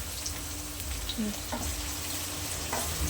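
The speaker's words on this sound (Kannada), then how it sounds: "ಉಪ್ಪು ಹಾಕ್ಕೊಂಡು ಅದನ್ನು ಫ್ರೈ ಮಾಡಿಕೊಂಡು" Puffed rice is fried with salt in a pan, a soft, steady sizzle and gentle stirring rustle heard up close at low volume with no talking.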